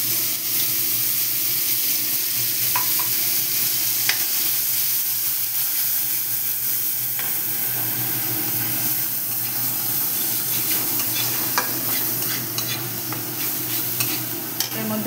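Spice paste with turmeric and salt sizzling in a pan for chicken biryani, stirred steadily with scraping spoon strokes over a continuous loud frying hiss.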